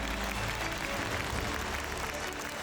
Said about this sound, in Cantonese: 讓我哋咧再一次用熱烈嘅掌聲，